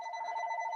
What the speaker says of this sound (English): I just think it's endearing hearing an actual old school telephone.